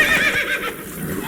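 Roach the horse in The Witcher 3 gives a short, close whinny with a quick wavering rise and fall, followed by faint hoof clatter.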